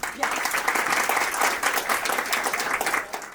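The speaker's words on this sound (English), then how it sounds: "we're going to make sure he hears the applause all the way up in Flint" An audience at a donors forum bursts into applause, a loud, dense stretch of many people clapping that swells and holds steady before easing slightly at the end.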